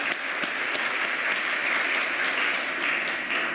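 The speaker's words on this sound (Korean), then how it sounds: "일대 대통령님께 큰 박수 좀 부탁드리겠습니다." Conference audience at a world strategy forum gives a president a round of applause, a steady, even burst of many hands clapping that fills the whole moment without speech.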